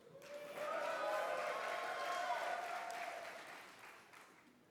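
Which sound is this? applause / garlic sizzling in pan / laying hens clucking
applause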